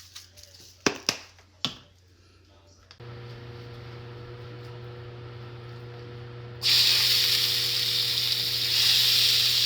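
Meat searing in a pan on high heat is preceded by a few sharp clicks and a low, steady hum. Partway through, a loud, bright hiss bursts in and holds steady to the end.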